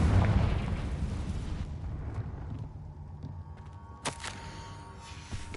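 Confringo explosive spell in Hogwarts Legacy, a loud rumbling blast right at the start that decays over a couple of seconds into a quiet tail, with a sharp crackling burst near the end.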